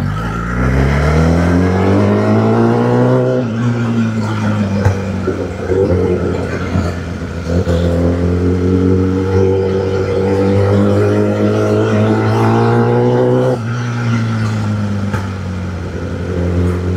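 Kawasaki Ninja ZX-10R motorcycle engine holding a loud, steady rumbling note close by for the whole stretch, with pitch shifts as it revs up and settles, no talking.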